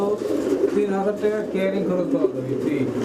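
Lahori pigeons coo softly and repeatedly in a pen, among them a blue barless and a grizzle barless bird, with people talking throughout over the birds.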